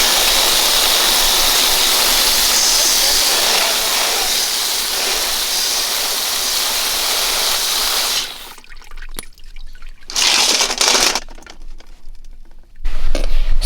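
Water from a garden hose pours and splashes over freshly tumbled rocks, a loud steady rushing that breaks off partway into a few separate gushes and pauses.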